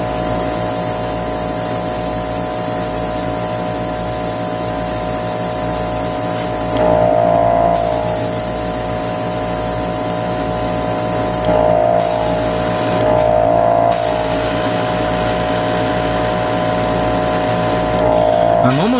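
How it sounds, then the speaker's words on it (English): Alclad chrome paint sprayed onto model kit thruster parts for a Gundam MG 1/100 Sinanju Stein, with an airbrush hiss running steadily under a constant mechanical hum and several louder bursts of spraying, close to the microphone. "I'm going to spray paint them the chrome from Alcad to give it that extra shine since it's a thruster."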